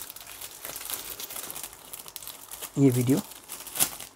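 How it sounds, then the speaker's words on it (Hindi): A plastic polybag crinkles and rustles softly as a Raj Comics comic is slipped inside, with light irregular crackles running under a man's brief speech. "इसको भी मैंने पॉलीबुक में डाल लिया है"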